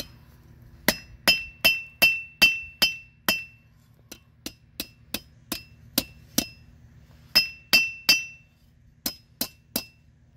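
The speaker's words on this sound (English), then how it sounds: "put it over the horn of the anvil, and use that to kind of create a curled shape" A blacksmith hammers hot metal over the horn of an anvil to bend a curl, sharp ringing strikes falling in quick bursts of four to seven blows with short pauses between.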